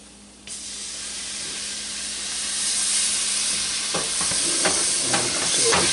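Stock poured slowly into a hot roux for seafood bisque, a steady loud hiss and sizzle rising as liquid hits the pan, with scattered stirring clicks and spoon taps near the end.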